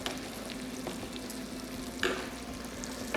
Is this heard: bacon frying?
yes